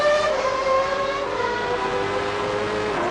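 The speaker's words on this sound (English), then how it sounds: "this is on board with Ayrton Senna round the Melbourne hairpin and firing it away." Onboard with Ayrton Senna's Williams Formula 1 car at Donington Park in 1993, the engine holds a loud, steady, harmonic-rich howl that climbs gently in pitch as the car accelerates out of the Melbourne hairpin.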